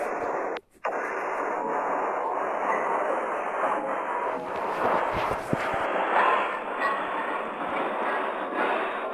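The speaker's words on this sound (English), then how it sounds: "Our train is, guys, accelerating very fast" Indian passenger train moving and picking up speed, a steady broadband rumble and rush heard from inside the carriage, with a brief dropout near the start and faint rattles and clicks throughout.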